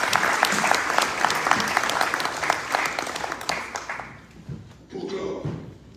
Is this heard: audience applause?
yes